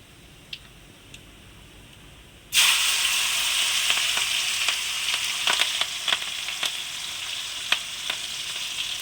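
Cumin seeds and chillies dropped into hot oil for a paneer curry burst into a loud, steady sizzle after a quiet start, with scattered crackles and pops throughout and no talking.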